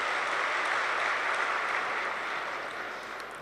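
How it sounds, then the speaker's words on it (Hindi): Steady, moderately loud clapping from a large seated audience at a spiritual gathering, a continuous wash of hands with no talking, tapering slightly toward the end. "अपने लिए ताली बजाओ,"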